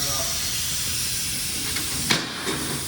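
Compressed air hisses steadily against the oil cooler of a 2020 Harley-Davidson Sport Glide, clearing built-up debris in a continuous close blast with a couple of brief flutters near the end.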